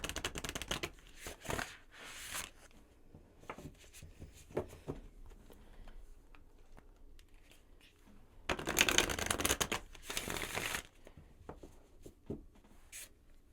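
An oracle card deck is shuffled in several bursts of crisp riffling and soft slapping, close up, with quieter handling and tapping between bursts and no talking.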